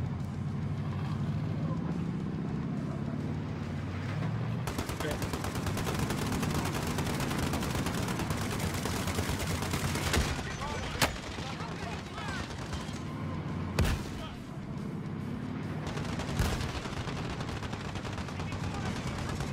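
Gunfire in the Call of Duty Warzone video game, sustained automatic shooting with a few sharper single shots, steady and fairly loud, with players talking over it.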